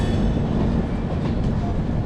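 A train runs steadily on rails near Ludhiana Junction on an Amritsar to Delhi service, giving a loud, continuous rumble of wheels and carriage noise with no break, close to the listener.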